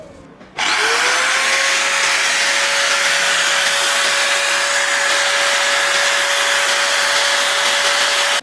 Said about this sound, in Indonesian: Gerinda entry level dari Bosch ini menurut saya layak juga ini sebenarnya untuk disiksa-siksa.